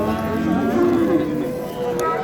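A cow at a livestock market lets out a loud, drawn-out moo close by, a sustained low lowing over a busy market background.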